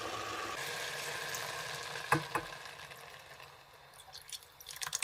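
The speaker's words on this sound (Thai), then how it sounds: "เอาน้ำใบย่านางเทลงไปนะคะ" Yanang leaf juice poured into a pot of boiled bamboo shoots, a steady watery rush with a few splashy drips midway, fairly quiet and without speech.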